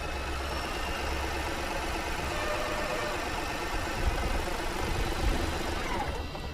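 A Toyota Hyryder hybrid's petrol engine idles with a steady, even hum that holds close and fairly loud for several seconds.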